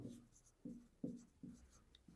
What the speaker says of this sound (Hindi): तो सबसे पहले एक नंबर लाइन को ड्रॉ करेंगे